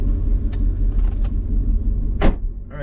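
An M113 armored vehicle's diesel engine, running rich, rumbles loudly and steadily up close as it drives, with a few brief clanks and a short rising whine near the end.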